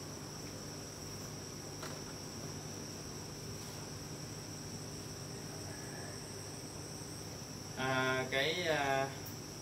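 Crickets kept as feed for giant water bugs in an urban farming setup, giving off a steady, even high-pitched chirring throughout, with a brief voice near the end.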